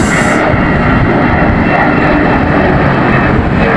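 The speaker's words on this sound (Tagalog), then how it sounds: "Ayan, may dumadaanan ng aeroplano. Aeroplano, Philippine Airlines." An airliner of Philippine Airlines passes overhead with a steady, loud broadband engine roar that fills the scene evenly, with no talk over it.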